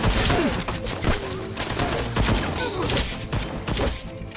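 Film combat with gunfire and grenades: dense bursts of rapid shots and heavy thumps crowd together in a loud, continuous barrage.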